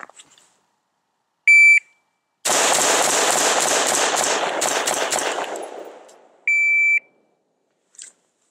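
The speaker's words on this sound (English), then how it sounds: "we'll shoot 10 rounds in 5 seconds." Carbine rifle fires ten rounds in a rapid string at a shooting range, sharp cracking shots in quick succession, with electronic shot-timer beeps before and after the burst.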